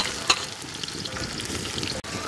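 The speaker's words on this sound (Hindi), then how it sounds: "जीरा डालने के बाद इसमें हम डाल देते हैं प्याज" Onion added to hot oil with cumin seeds, a bright, close crackling sizzle that holds steady for a couple of seconds with a brief clatter near the start, no voices.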